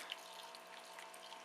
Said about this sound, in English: so I use warm water, and I just pour some water in here.